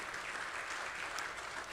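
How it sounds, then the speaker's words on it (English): Audience applause at a keynote luncheon, a faint, distant wash of dense clapping that stays steady and even for the whole short stretch. "that's something that deserves a round of applause"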